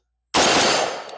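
A Smith & Wesson M&P 15T tactical rifle, a police trade-in, fires one sharp, loud shot outdoors that ends in a brief echoing decay.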